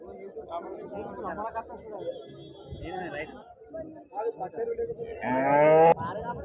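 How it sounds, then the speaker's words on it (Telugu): A small, short cow at a livestock market in Husnabad, Siddipet district, lets out a loud, drawn-out moo near the end, following stretches of people talking nearby. "ఈ రకం ఉందండి ఆవు ఇది"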